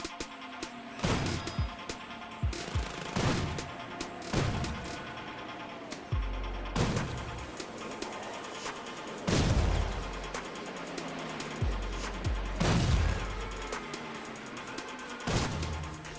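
Pump-action shotgun blasts blowing up crates in GTA V Online, about a dozen sharp booming shots with crashing impacts spaced a second or two apart, under a constant game ambience with no talk.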